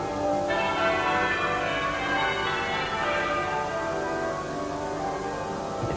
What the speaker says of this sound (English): sound of the half-muffled bells of Westminster Abbey, Princess Diana begins the final stage of he